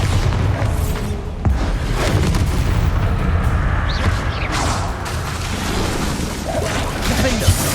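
The Bombarda explosion spell goes off during a Hogwarts Legacy battle, dense booms and blasts crashing over continuous combat clamour with whooshing spell effects throughout.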